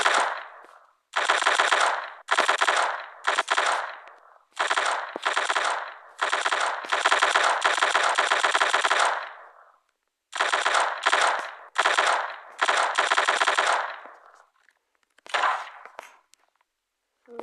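Loud automatic weapon fire in a video game in rapid bursts, some long sustained strings, separated by short gaps; no voices.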